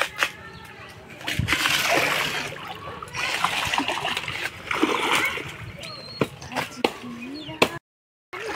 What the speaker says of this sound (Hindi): देखिए मेरा बच्चा लोग नहा रहा है